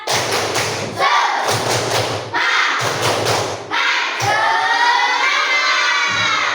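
Schoolchildren perform a rhythmic spirit clap in a classroom lesson, with patterned groups of loud claps and thumps separated by short pauses, ending in a burst of excited shouting and cheering.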